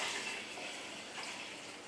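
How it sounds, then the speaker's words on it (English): Everclear pours in a brief, faint, steady liquid stream into a lemon and clementine liqueur mix, a soft continuous trickle. "I'm going to add 250 milliliters of Everclear"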